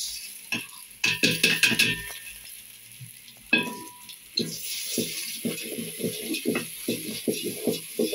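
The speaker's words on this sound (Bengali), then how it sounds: "এখন চাল দিয়ে দিতেছি" Rice poured into a pot of browned fried onions for beef biryani, then stirred: a loud burst of grains hitting oil followed by steady sizzling and repeated scraping strokes of a spoon against the pot.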